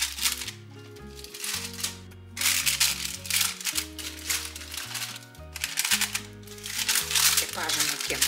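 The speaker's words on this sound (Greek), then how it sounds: "έχω βάλει αντικολλητικό χαρτί, έχω στρώσει, θα βάλω κι άλλο." Non-stick baking paper crinkles and rustles in repeated bursts as it is pressed into a Pyrex dish, close and loud, with a voice speaking over part of it.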